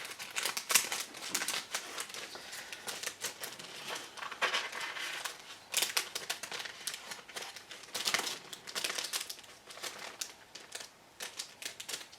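Resealable plastic bag from a 1/48 ICM Hampden TB.1 model kit being handled: close, irregular crinkling and rustling in quick bursts, with no speech.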